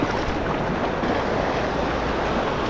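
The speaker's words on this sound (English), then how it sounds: "With the waves pushing in like that, kind of moving things around" Storm-driven ocean waves surge steadily onto a beach, a continuous loud roar of surf with gusting wind noise and no breaks throughout.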